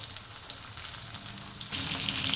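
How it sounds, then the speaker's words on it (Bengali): Pieces of fish fry in hot oil in a home kitchen, a steady close sizzle and crackle that swells slightly louder toward the end, with no talking. "তো এখন এই মাছগুলো আমার ভাজা হোক।"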